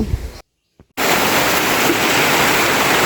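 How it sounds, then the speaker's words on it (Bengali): Heavy rain roars as a dense, constant wash of noise. It cuts out briefly near the start, then pours on loudly without voices. "অনেক বৃষ্টি এই দেখেন বৃষ্টি পড়তেছে অনেক"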